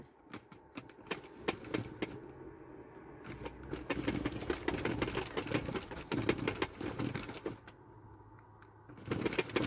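Sentro 22 pin knitting machine cranked by hand, a fast, faint clicking and clattering rattle that runs steadily and quickens through the middle before easing off.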